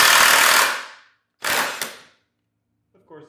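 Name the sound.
Snap-on impact wrench breaking loose a bolt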